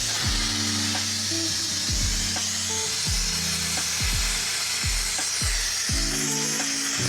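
A vacuum pump runs on a silver-casting flask, making a loud, continuous mechanical rumble cut by regular, roughly once-a-second pulsing strokes that sweep downward in pitch. No speech is heard.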